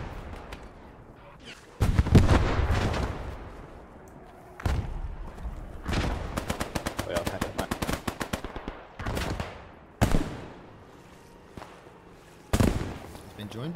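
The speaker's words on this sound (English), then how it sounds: "I see a mortar firing center of screen." Repeated mortar and gunfire blasts in Squad 44, a WWII shooter set during a 1940 French assault on the Maginot Line: sharp booms at intervals alongside rapid bursts of firing, loud and fairly close, with faint voices beneath.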